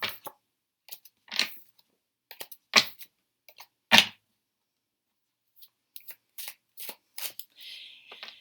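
Rider-Waite tarot cards are shuffled in short, crisp bursts of riffling and flicking, separated by quiet pauses, close by in a silent room.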